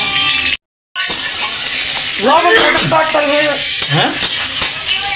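Salt tempered in hot oil in a Bengali home kitchen, giving a loud, continuous sizzle with stirring and a few metal clinks; a brief dropout occurs early on, and voices talk over the frying.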